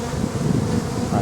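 An open beehive gives off a loud, dense buzzing hum, close and continuous throughout with no talking.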